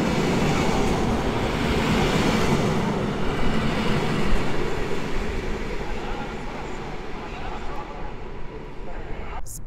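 Husarz electric locomotive EU44-009 hauling the Berlin-Warszawa Express approaches through a station under construction, a steady broad rumble and rush of rolling stock that stays loud throughout.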